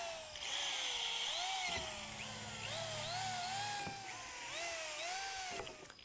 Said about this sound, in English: Use a 1/4 inch drill bit to make 5 evenly spaced pilot holes.